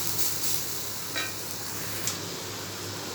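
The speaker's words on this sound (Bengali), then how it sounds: "রসুনটা ভাজা ভাজা হয়ে গেছে" Garlic frying in oil in a pan, a soft, steady sizzle with faint stirring scrapes and a couple of brief clinks, quiet and close.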